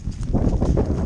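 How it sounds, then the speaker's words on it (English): Cows walk close by on a wet bridle path, their hooves making a brief run of soft, irregular thuds and clops, loud and near, with no talk over them. "Cows."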